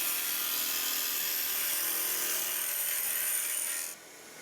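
A turning tool cuts into a wooden water flask on a lathe, making a continuous bright scraping hiss that runs steadily for several seconds and then drops away abruptly as the cut stops.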